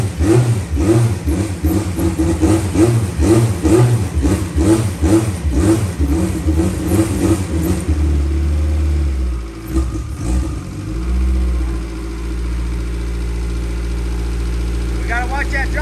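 A K Series jet boat engine cranks and catches, its rhythmic firing pulses giving way to a steady, loud running drone close by, with people talking over it.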